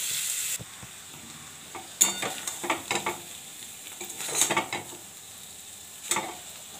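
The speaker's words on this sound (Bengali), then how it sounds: "লাউ চিংড়ি গরম হয়ে গেছে," Leftover bottle gourd and prawn curry reheating in a pan, a low steady sizzle with scraping stirs of a spatula in irregular bursts, close and alone.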